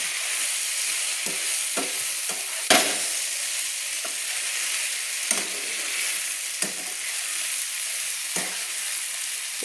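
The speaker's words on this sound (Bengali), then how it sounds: "পুঁই মেচুরির সঙ্গে এবং সবজিগুলোর সঙ্গে আমি কিন্তু মশলাগুলো কষিয়ে নিচ্ছি।" Spices are frying with Malabar spinach stems and vegetables in a pan. A steady, close sizzle runs throughout, broken by several sharp stirring scrapes and clatters at irregular intervals, with no voices.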